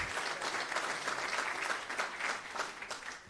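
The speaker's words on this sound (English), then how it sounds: "A big round of applause for them." Applause from a conference audience welcoming panelists onto a stage, a steady dense clapping that fills the room, moderately loud and continuous without any talk over it.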